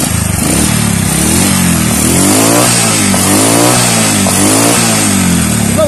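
A Honda Wave 125 motorcycle engine with a faulty spark plug revs hard and continuously, its pitch surging and dipping in repeated throttle blips, loud and close throughout.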